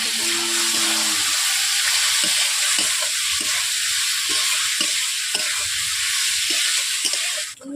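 Potatoes and ridge gourd frying in a pan of oil, a loud steady sizzle throughout with a series of soft regular knocks from stirring, close up and without talk.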